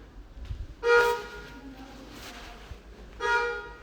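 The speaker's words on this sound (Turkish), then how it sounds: "Ana bir korna çaldı." Two loud car horn blasts, one short and one a couple of seconds later, sounding from a moderate distance over low background rumble.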